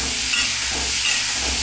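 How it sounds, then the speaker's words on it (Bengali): Potato and cauliflower frying in hot oil on a winter afternoon, a loud, steady sizzle and hiss throughout, close up with no talking. "আলুটাও একটু ভেজে দিচ্ছি।"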